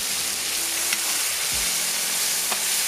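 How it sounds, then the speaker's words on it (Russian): Beef stew ingredients fry in a kazan over a campfire, a steady close sizzle and crackle of hot fat filling the whole stretch, with a brief low knock partway through and no voices. "и обжариваем еще 3 минуты"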